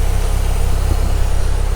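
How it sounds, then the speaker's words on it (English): A car engine, started and driven for the first time in a year, idles close by with a deep, steady low rumble. It stays loud and even, with a faint pulsing texture. "can hear the engine rumbling"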